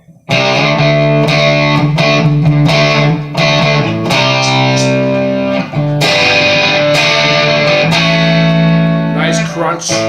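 Marshall Code 25 amp on its Plexi preset, a crunchy overdriven electric guitar riff of chugging chords and ringing notes, loud and continuous for the whole stretch.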